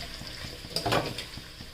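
Potato fritters (aloo bonda) frying in hot oil, a soft steady sizzle with a brief louder burst of bubbling and stirring midway, close by and with no voices.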